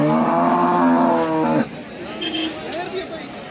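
A buffalo at a livestock market in Rampura, Punjab, lets out a long, loud, low bellowing moo that breaks off abruptly, followed by quieter market noise and distant chatter.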